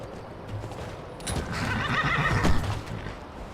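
A horse in the Skyrim video game neighs in a rising, loud whinny over a steady outdoor ambience, with soft hoof clip-clops nearby.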